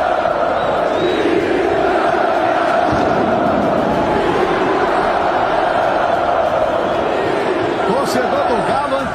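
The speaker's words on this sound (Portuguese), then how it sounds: "Olha o grito da torcida" Football crowd at an Atlético Mineiro match in 2021 chanting in unison, a dense, steady roar of many voices filling the stadium throughout with no pauses.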